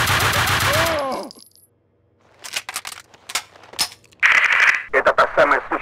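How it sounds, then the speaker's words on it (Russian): Gunfire in the video game Max Payne 2: a scattered run of sharp shots and bursts after a pause, mixed with voices speaking at the start and later in the scene. "Я слышу выстрелы."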